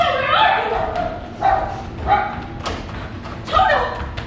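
A dog gives several short yips and barks with whimpering between them, loud and close, in bursts spread across a few seconds.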